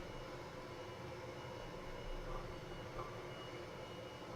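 A simulated light airplane engine in X-Plane 11, throttled back close to idle during descent with flaps partly down, giving a steady, close, broadband drone with no talk over it.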